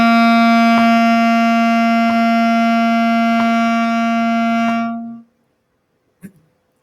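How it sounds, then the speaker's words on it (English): A single clarinet holds one long, smooth, even note for about five seconds, steady and close with a rich harmonic tone and no wavering, then stops cleanly into silence followed by a faint small knock. "this is a demonstration on a clarinet"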